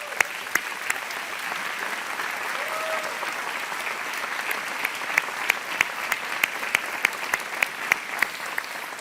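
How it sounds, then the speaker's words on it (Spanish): A church congregation applauds steadily throughout a Spanish-language service, with a dense wash of many hands clapping and a few sharper, nearer claps standing out, and no speech over it. "dale un fuerte aplauso al Señor"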